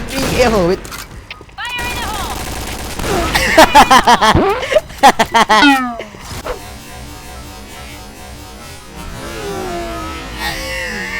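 Loud bursts of rapid gunfire in a shooting video game, aimed at a tank, come in clusters between stretches of game noise, with excited voices talking throughout.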